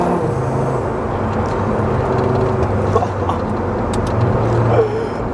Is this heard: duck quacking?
no